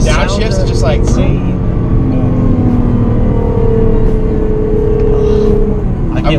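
Twin-turbo engine of a tuned 600 horsepower Nissan GT-R R35 revving and downshifting from inside the cabin, a steady loud drone with rising and falling pitch, with people talking over it throughout.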